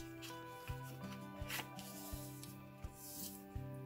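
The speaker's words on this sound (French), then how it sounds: "Je plie mes plis" Paper flaps for a handmade pop-up album are folded and creased, giving faint, soft rustles and a few sharper crinkles over a quiet background of sustained musical tones.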